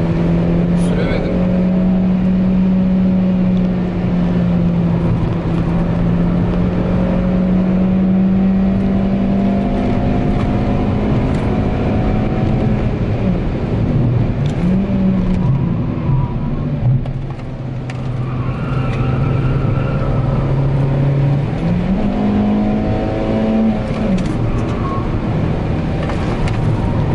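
A car laps the Nürburgring Nordschleife, its engine droning loud and close with steady tone shifts as it revs up and down through the gears, the wind and road noise constant.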